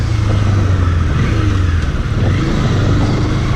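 A Bajaj Dominar 400 motorcycle being ridden, its engine humming loud and steady with a low droning tone and rushing wind, close to the microphone, with no talking.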